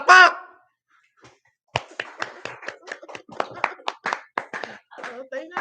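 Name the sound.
audience clapping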